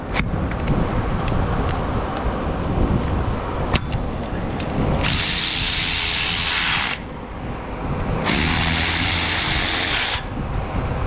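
A ratchet removes the two 12mm nuts on the EGR piping of a Honda Civic, starting with scattered metallic clicks and then two loud, sustained spinning bursts of about two seconds each.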